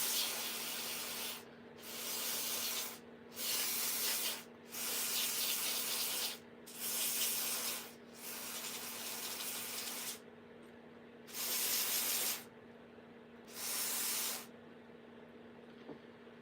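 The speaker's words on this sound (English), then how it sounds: "And then we just spray this on here." A spray nozzle hisses cleaning fluid in repeated bursts, about six or seven sprays of a second or so each, separated by short pauses over a low steady hum.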